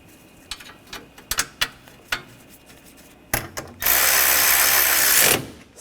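Ratchet clicks snugging bracket bolts during an intercooler replacement on a 2013-2022 Buick Encore 1.4L; several short bursts of ratcheting, then a longer loud steady whir, close up.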